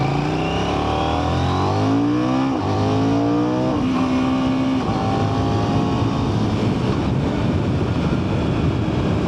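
A 2024 KTM 990 Duke motorcycle engine accelerating through rising revs and gear changes, loud and close, with heavy wind rush over the rider's microphone taking over as speed builds.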